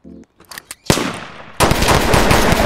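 Rapid gunfire in a Roblox game, a few short blasts followed by sustained automatic shooting, loud and close.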